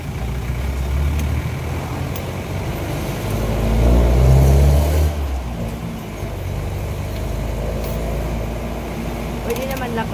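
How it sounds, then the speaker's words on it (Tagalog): Road traffic on a busy street in San Juan, with engines rumbling nearby and one vehicle swelling louder as it makes a U-turn, set under steady background hum and street noise. "Dito kasi medyo traffic kasi ano, may nag-U-turn."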